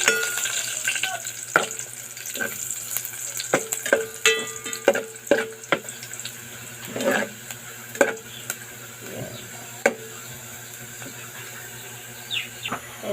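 Onions and garlic sautéing in a pan for a Filipino sautéed mussel dish, with steady low sizzle and a run of sharp utensil clinks and scrapes scattered through, close and fairly quiet.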